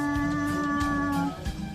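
A cat gives a single drawn-out meow that holds steady before trailing off, close and clear, with faint room noise after.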